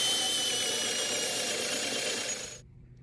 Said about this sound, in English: Perhaps a few decorative holes using the drill.